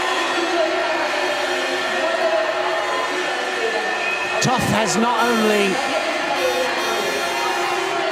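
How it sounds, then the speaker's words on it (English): Stadium crowd at the 2021 World Judo Championships finals in Hungary, a steady broad roar from the stands with a brief louder swell of cheering midway, while a commentator talks over it throughout. "Listen to the crowd."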